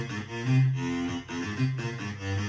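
A chopped, processed saxophone sample loop from a remix: sustained, swelling saxophone notes that rise and fall in a slow repeating phrase, played alone and fairly loud.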